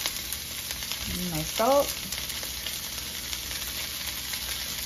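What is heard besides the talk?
food sauteing and sizzling in a pan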